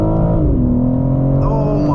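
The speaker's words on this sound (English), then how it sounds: "This car took off." A 2022 BMW M4 Competition coupe pulling hard under full throttle, engine loud and close with a steady rising drone and a gear change midway, smooth and continuous throughout.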